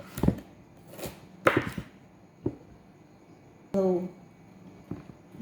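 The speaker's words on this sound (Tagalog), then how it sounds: "Ito yung ating white onion at tomato guys. So ikakat natin ngayon." A knife chopping white onion and tomato on a board for a mixed garden salad, a few sharp separate cuts spread out with gaps between, close and fairly loud, plus a brief tonal knock near the middle.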